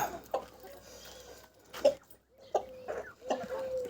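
Chickens cluck in short, scattered bursts, some close and some farther off, with quiet gaps in between and no talking.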